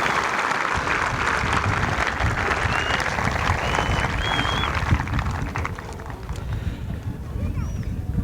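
A commencement audience at a 2021 high school graduation claps in a broad, sustained round of applause, dense and steady, slowly thinning toward the end.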